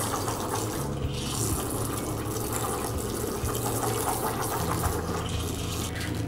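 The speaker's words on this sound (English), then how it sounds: "You hear lots of frothing, a little bit of a hiss." Ascaso Arc espresso machine steam wand frothing milk in a jug, a continuous loud gurgling, bubbling hiss with no talk.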